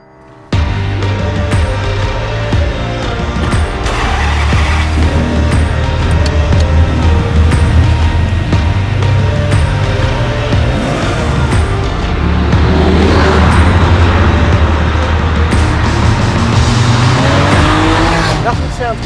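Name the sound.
Ferrari 550 Maranello V12 engine driving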